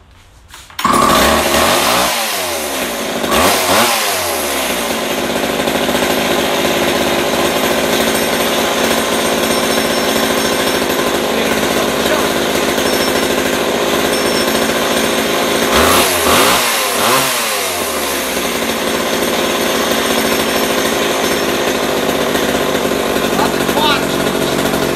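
A Poulan Micro XXV / Craftsman 1.9 cubic inch chainsaw with a 12-inch bar, pulled over a couple of times and then roaring into loud, steady running with brief revving surges near the start and again midway.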